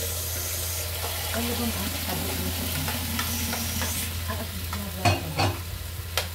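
Potatoes fry in a pan for Ilocano igado, giving a close, steady sizzle broken by stirring clatters and a couple of sharp knocks near the end, with a faint voice underneath.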